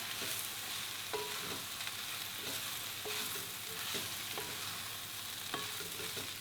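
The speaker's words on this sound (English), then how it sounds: "coat in all of the juice that have come out of the mushrooms and the oil. So you get a nice stir around." Mushrooms frying in oil and their own juices sizzle steadily and loudly, with repeated scraping strokes as they are stirred around the pan.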